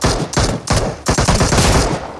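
Rapid volleys of loud gunfire in the game PUBG Mobile, tied to a Mosin Nagant sniper rifle, several sharp shots in quick succession with mixed battle noise.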